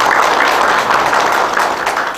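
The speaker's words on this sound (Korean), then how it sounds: "큰 박수로 환영해 주시기 바랍니다." Audience applause at a housing-management policy forum in Gwangju, welcoming a professor to the podium; a dense, steady wash of clapping fills the room at full level from start to finish, with no voices over it.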